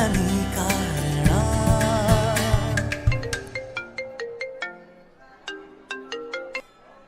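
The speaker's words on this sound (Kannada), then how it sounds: "ಅದ್ಯಾಕೆ ನೀವು ಅಪ್ಪನ ಫೋನ್ ಕಟ್ ಮಾಡ್ತಿದ್ಯಾ?" A mobile phone ringtone plays loudly on its own, a bright electronic melody of sustained chords that gives way to a sparse run of plucked, bell-like notes.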